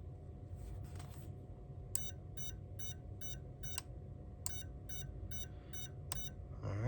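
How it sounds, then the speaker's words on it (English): An FPV drone's motors emit short electronic beep bursts in two spaced groups of rapid, evenly timed pips over a low background hum. "So I'm still only getting motor beeps."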